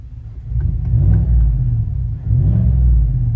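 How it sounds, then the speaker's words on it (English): Deep, steady exhaust growl of a GMC Sierra AT4 1500 pickup with a 6.2L V8 and aftermarket muffler, heard from inside the cab, rising slightly as the engine revs; loud, continuous low rumble with no talking. "Nice growl to it from the interior."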